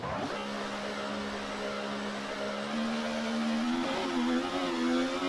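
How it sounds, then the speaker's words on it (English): Kick Sauber Formula 1 car engine in an F1 racing video game at the Saudi Arabia round, a steady high whining drone that climbs in pitch as revs rise, loud and continuous with no talk. "colour-wise, it's one of my favourite cars, the kick, but the noise it makes is absolutely dreadful"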